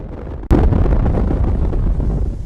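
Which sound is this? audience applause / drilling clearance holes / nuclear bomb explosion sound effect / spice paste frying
nuclear bomb explosion sound effect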